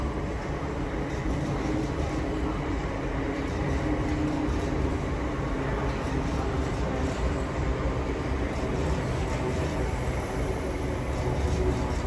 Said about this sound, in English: coming in now is the 1557 South Eastern service from Slade Green to London Charing Cross